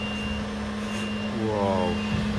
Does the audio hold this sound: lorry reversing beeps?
yes